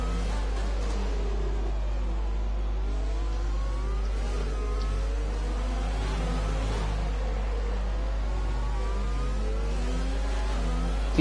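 Cars in a racing video game set at a Mexico track whine and rev faintly in the background, with engine pitches rising and falling under a constant low hum.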